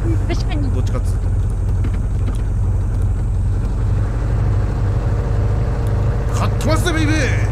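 A human voice imitates a motorbike engine with a loud, close, continuous buzzing drone that holds steady for several seconds, then wavers and sweeps in pitch near the end.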